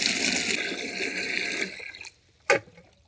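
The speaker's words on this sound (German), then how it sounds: "Das Wasser kommt auf jeden Fall auch wieder klar aus meinem Schlauch raus." Backwash water from a pool sand filter rushing out of a garden hose, a steady, hissing gush that cuts off after about two seconds, followed by a brief splash.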